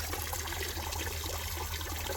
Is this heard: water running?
yes